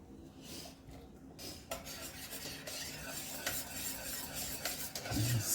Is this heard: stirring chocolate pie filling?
yes